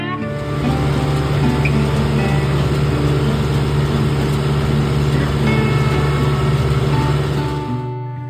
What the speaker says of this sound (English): It was impressive to me how much that baler shakes that tractor while it's going through its cycle.